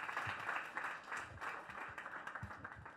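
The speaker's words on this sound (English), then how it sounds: "round of applause" Audience applause at an innovation talk event, a short burst of moderate crowd clapping heard somewhat distantly for a few seconds.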